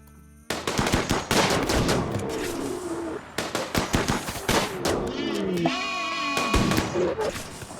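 Rapid bursts of gunfire from colonists shooting animals in RimWorld crackle loudly and almost without pause, with sharp cracks clustered in volleys, alongside some game tones.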